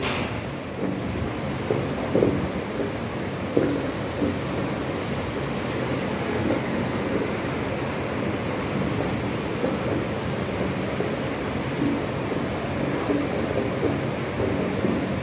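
Rain falls over the surf at Nassau, Bahamas, making a steady, dense hiss and rush that stays even and unbroken throughout, with no voices.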